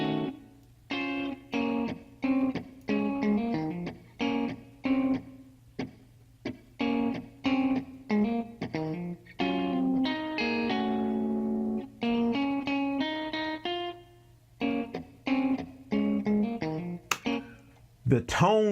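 Short plucked sampled electric guitar phrases from a software instrument library ring out in bursts with brief pauses between them, a clean, tuneful tone playing melodic licks.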